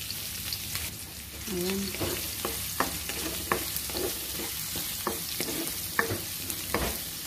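Chili and garlic frying in hot cooking oil in a pan, a steady soft sizzle broken by regular sharp scraping strokes of a spatula stirring, close up, with a short spoken word at one point.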